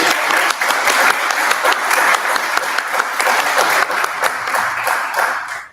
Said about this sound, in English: I just want to ask you like a big round of applause for them